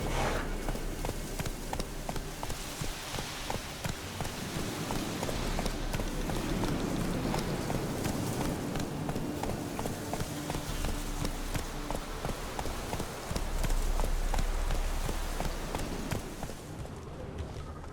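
Hooves pound steadily as a horse gallops in The Witcher 3, a continuous rhythmic clip-clop carried under a dense bed of game ambience and wind-like noise for the whole stretch.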